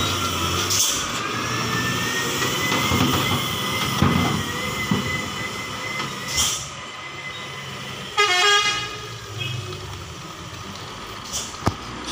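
Trucks pass on a mountain road at Batu Jomba with rumbling engines, several horn toots and a long honk partway through, plus continuous road noise.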